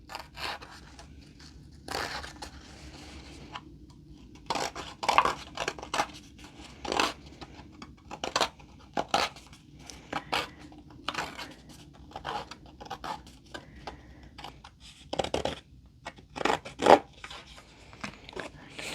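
A distress tool dragged across a paper page, giving repeated short scraping strokes in irregular bursts over a faint background hum, close and crisp.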